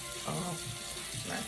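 Tap water runs steadily during a facial care routine as a face cloth is rinsed out, a close continuous wash of flowing water with low murmuring sounds beneath it.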